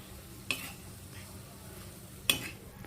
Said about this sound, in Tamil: வேக வச்சு வச்சுருக்கிற பச்சை மூச்சையே இந்த மசாலா கலவையில் நம்ம சேர்த்துடுறோம்